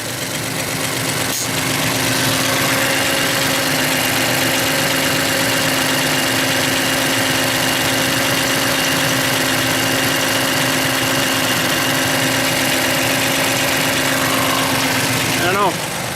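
A Ford F-150 diesel engine idles steadily and close, a rough continuous rumble with a faint light tapping running through it.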